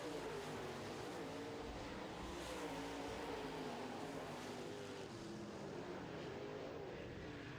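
Modified race cars roar around a dirt track at a steady, continuous loud level, several engines overlapping with a broad mechanical drone and no clear pauses.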